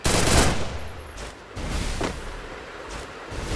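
Rapid shotgun blasts from a 1v1 match in the Garena Free Fire mobile game, loud bursts in quick clusters with a brief lull between volleys.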